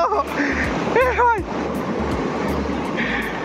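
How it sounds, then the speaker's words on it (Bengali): Big sea waves break on a beach at Talsari, a loud rushing surf with wind buffeting the microphone, while a person speaks and calls out over the roar. "কি বড় ঢেউ এসছে ভাই"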